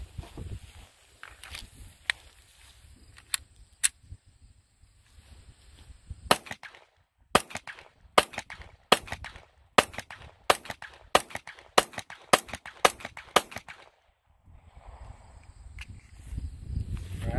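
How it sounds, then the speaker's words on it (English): A Taurus GX4XL 9mm pistol fired with Turkish Turan ammunition at a range, with a few spaced shots and then a quick series of sharp, crisp reports that ends in quieter handling noise. "Now I'm going to shoot 3 mags with this Turan, which is also made in Turkey."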